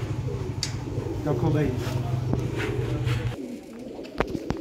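Pigeons coo in a low, repeated rolling rhythm, close by, while someone talks over them; the cooing stops abruptly near the end, leaving a few sharp knocks.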